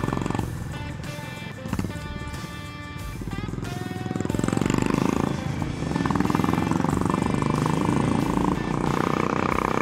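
Loud single-cylinder thumper motorcycle with every exhaust baffle removed, heard on a road trip through jungle in India; a harsh, continuous exhaust note that swells louder midway and stays strong, with engine tones shifting throughout.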